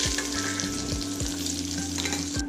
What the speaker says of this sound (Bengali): আর এই ইলিশ মাছ কিন্তু খুব একটা বেশি ভাজার দরকার নেই